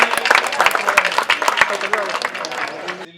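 An audience at a neighbourhood political event in Delhi's Srinivaspuri ward applauds to welcome the Delhi state party president, steady close clapping from many people with talk over it.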